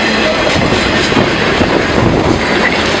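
A train rolls past at very close range, a loud, dense rumble of wheels with clickety-clack and faint squeal running steadily throughout.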